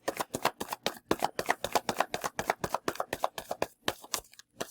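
A deck of cards riffled and bridged in quick bursts, a dense run of crisp flutter-snaps at close range with short pauses between passes, no voices.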